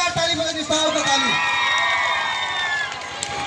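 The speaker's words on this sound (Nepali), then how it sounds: "हेमन्त दाइको लागि एकचोटि जोरदार ताली बजाउनुस्" An audience at a comedy show cheers, whoops and claps loudly for a singer, with excited crowd shouts rising over the applause and tapering slightly at the end.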